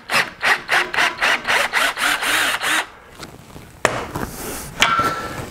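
Hand-held drill running a 3/8 bit through a tapped M10 thread: about ten rhythmic grinding pulses, then a pause followed by scraping, clunks and a brief burst of drilling, close and loud.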